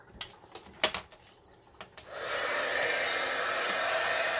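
A Milwaukee heat gun blows over an embossed craft card with a steady, close roaring whoosh, preceded by a few sharp clicks and taps.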